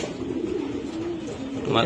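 Racing pigeons coo in a loft with a steady low warbling coo, a few calls running together close by, while people talk over them throughout.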